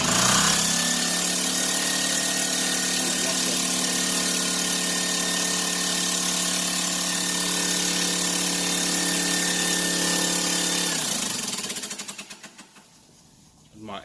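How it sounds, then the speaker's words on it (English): An air compressor runs in a garage, a loud steady droning motor hum with tonal whine held for about eleven seconds before it winds down and stops. "My air compressor, y'all."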